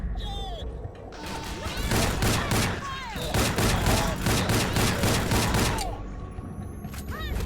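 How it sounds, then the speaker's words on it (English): Loud bursts of gunfire from a sniper rifle at close range in the video game Rogue Trooper, a dense rapid volley of sharp cracks and crashing impacts lasting several seconds before cutting off. "using sniper rifle up close is always a good plan"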